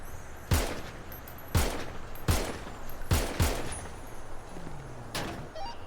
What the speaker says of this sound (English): Guys, you're actively being shot at.